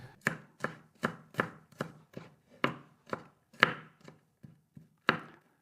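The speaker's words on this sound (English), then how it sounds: "We cut the garlic cloves into smaller pieces." Garlic cloves are chopped with a knife on a board, about a dozen crisp, evenly spaced chops close by with nothing else around them.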